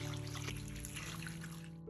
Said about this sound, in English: Then pour in water until the eggs are completely submerged.